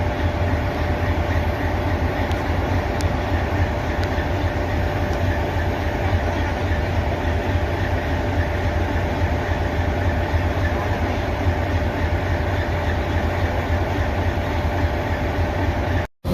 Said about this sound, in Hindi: थोड़ी देर आप इसकी प्यारी सी चगिंग को सुनिए, इसकी आइडल साउंड को सुनिए।